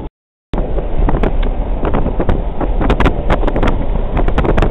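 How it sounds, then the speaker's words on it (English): Wind buffets the microphone while an RV drives along the coast, a loud, steady broadband roar with gusty thumps that begins abruptly after a brief silence and runs without speech. "A little windy going through here"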